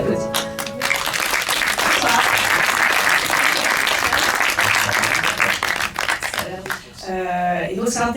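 Dense, sustained applause from a film festival audience fills the room, many hands clapping loudly and continuously before thinning toward the end, with some voices mixed in.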